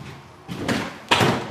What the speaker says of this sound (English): Here's one of our sliding windows. This is a 30 by 30.